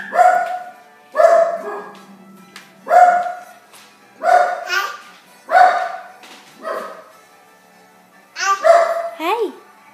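A dog barks repeatedly in short bursts at a steady rhythm, fairly close and clear, with a few quick yips toward the end.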